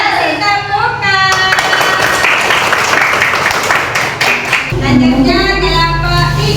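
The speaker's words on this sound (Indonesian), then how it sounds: "Kasih tepukan." An elementary classroom gives a burst of applause, with many hands clapping loudly for several seconds in a dense, scattered patter, while children's voices and teacher speech are heard before and after it.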